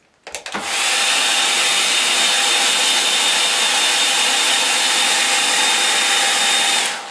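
A hair dryer blows steadily on a watercolour landscape painting for about six seconds, loud and close, with a constant whine after a brief click and start-up.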